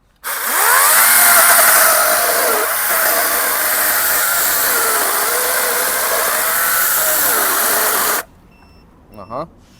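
A ProCraft PCA40/2 cordless saw cuts dry hardwood with a loud, close, continuous whining buzz that rises and dips with the load, then cuts off abruptly, leaving a quiet tail with a few small clunks.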